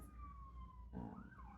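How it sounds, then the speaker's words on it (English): An emergency siren wails outdoors during a snowstorm, faint and distant, its tone sliding down and then rising again. "sorry about the sirens, guys"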